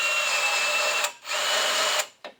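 A power drill countersinks and deburrs a hole for a hood gauge mount on a manual C8 Corvette drift car, whining steadily in three short bursts separated by brief pauses.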